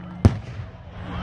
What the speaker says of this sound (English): It's a firework, for God's sake, not a terrorist.